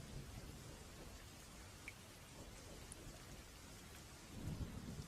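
Steady heavy rain on a stormy night with low rolling thunder rumbling beneath it, a louder thunder swell near the end, all fairly faint and with no talking.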